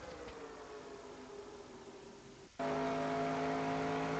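A race car engine at Pocono Raceway in NASCAR Racing 2002 holds a steady high whine, then jumps suddenly louder and higher as the gear changes, droning on alone without any speech.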